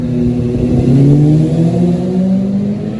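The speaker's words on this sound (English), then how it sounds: "motorbike." A motorbike passes by outdoors, its engine note rising and falling with a steady harmonic whine over about three seconds, fairly loud and close, with no talk.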